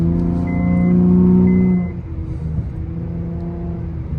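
A car engine revs up in a steady droning hold for about two seconds, then drops back to a low, rough rumble while driving; any exhaust pops are hard to pick out.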